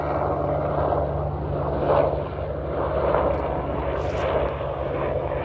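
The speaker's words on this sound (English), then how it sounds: "that's a helicopter." A low, steady engine drone with rhythmic thrumming, like a helicopter passing overhead at moderate distance, continuous throughout with no speech.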